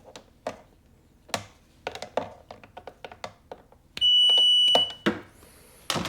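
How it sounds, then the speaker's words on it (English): A 1997 Sea-Doo MPEM under repair gives a sustained electronic beep, with one long steady tone lasting about a second amid scattered clicks and taps of work nearby. "Why is it just constantly beeping?"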